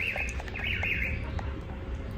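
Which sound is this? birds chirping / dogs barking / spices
birds chirping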